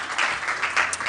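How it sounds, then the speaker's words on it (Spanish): Audience applause from a seated crowd at a public-health presentation event, a brief, dense patter of many hands clapping at moderate volume. "un aplauso para Beatriz"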